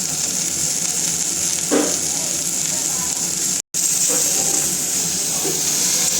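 Coriander leaves fry in hot oil for a pickle, giving a continuous bright sizzle with a steady hiss. The sound stays close and even, with a brief dropout midway and a few faint clinks.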